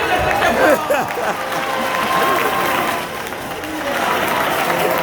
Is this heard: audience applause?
yes